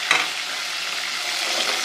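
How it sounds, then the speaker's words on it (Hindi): Garlic fries in a pan for a mash daal, giving a steady, close hiss of sizzling oil after one brief knock at the start. "लहसुन जो है वो हमारा हो गया है फ्राई"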